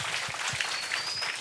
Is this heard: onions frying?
no